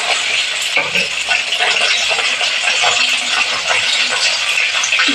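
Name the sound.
potatoes frying and being stirred in hot oil in a wok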